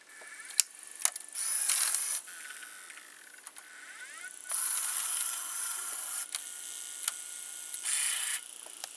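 Loading mechanism of a broken Canon 8mm camcorder whirring and clicking as its small gears turn on eject, with bursts of motor buzz and sharp ratcheting ticks, close and fairly quiet.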